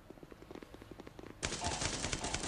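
Automatic rifle fire from the mobile shooter Guns of Boom: a quieter stretch of rapid ticking shots, then a loud, dense sustained burst from about the midpoint to the end, with no talking.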